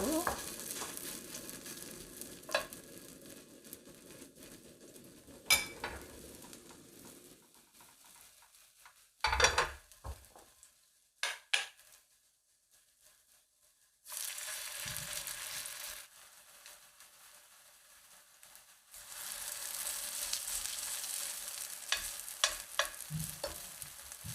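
Korean potato pancake batter fries in a pan, sizzling between bouts of stirring, utensil clatter and quiet pauses. The sizzle is loud and hissing, and the later frying runs continuously.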